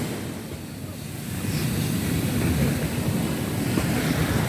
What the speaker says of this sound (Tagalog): Nagagalit yung dagat, ayaw ko pang kasi maligo eh.